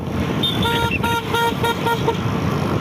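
Car horns honk repeatedly in slow-moving traffic during Diwali, with several short and medium toots close by over a steady road rumble.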